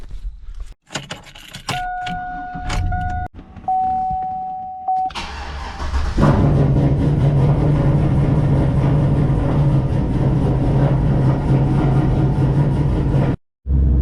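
A turbocharged GMC truck starts up after a jangle of keys and a chime, then idles and rolls out of a garage with a steady, close, loud engine rumble.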